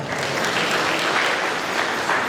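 Clapping from the audience at a public health professional induction ceremony, a continuous, fairly loud patter of many hands that stays even throughout.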